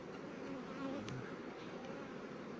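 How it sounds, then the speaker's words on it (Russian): Honeybees buzz steadily at an apiary hive in early June, a dense, close, continuous hum with slight swells and no talk. "где много пчел"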